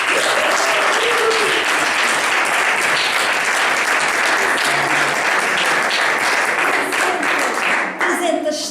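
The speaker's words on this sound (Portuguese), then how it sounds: "Hoje merecemos uma grande salva de palmas" Loud, sustained applause from a club audience celebrating its 300th session, a dense wall of clapping that holds steady for several seconds before thinning near the end, with some voices mixed in.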